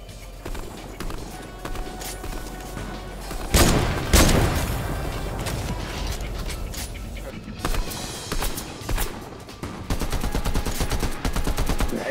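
Gunfire in a Fortnite squad zone wars match: scattered shots and short bursts, with one loud boom partway through and denser firing toward the end, under occasional talk.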